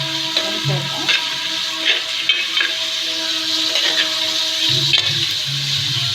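Chopped tomatoes and mint sizzle in a pan for chicken biryani, a steady frying crackle broken by several clinks and scrapes of stirring.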